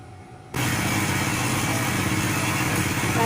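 A TVS XL100 moped with a clutch fault starts up and settles into a steady, close buzzing run, the light single-cylinder engine droning on without a break after a quiet start.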